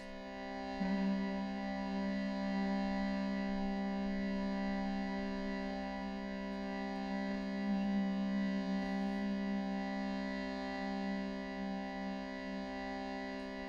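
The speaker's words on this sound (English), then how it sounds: "we're singing long tones, HM, any note, any sound" A group hums long, sustained tones together, forming a steady, layered drone that holds evenly without breaks.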